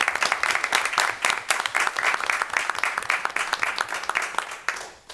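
A room at a school committee meeting fills with applause for a committee member, many hands clapping in a steady, fairly close burst that lasts about five seconds.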